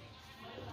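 A male goat (ram) bleats in a livestock setting, a short, loud, continuous call under a dense noisy background.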